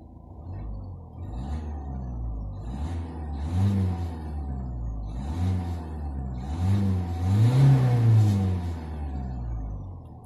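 Engine of a 2014 Citroen C4 Aircross revving in several swells, rising and falling in pitch with the loudest rev near the end, close by and with no talk.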